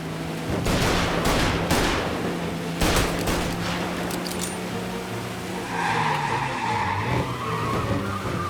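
A car skids hard and crashes in Mafia: Definitive Edition, with long scraping, squealing tire noise and heavy broadband impacts. The crunching bursts hit in a loud, dense run over a steady engine roar, and no one speaks.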